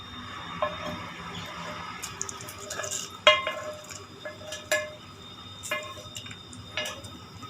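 A hot tempering of garlic, curry leaves and dried red chillies is poured into ajwain java, bringing a brief sizzle followed by light utensil clinks and scattered metallic taps against a pot.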